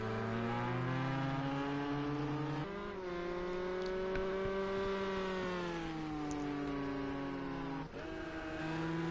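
Two Ford GT race cars lapping Road America in a GTE league racing game, engines droning steadily with rising and falling pitch as gears shift, continuous and fairly close, with no voices.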